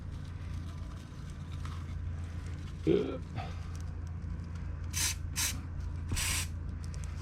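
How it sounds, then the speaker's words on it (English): Aerosol spray can applying rubber coating to a model truck hauler, several short hissing bursts near the end over a low steady background hum. "When that dries, it will actually be a rubber coating on there, and it goes just like spray paint."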